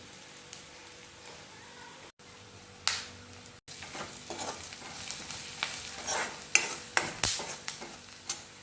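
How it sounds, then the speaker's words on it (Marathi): Onions frying in a pan for masala bhadang, with a soft sizzle and a series of spoon scrapes that grow busier and louder toward the end. "सर्व कांदे वगैरे छान गुलाबी होईपर्यंत शिजू देते"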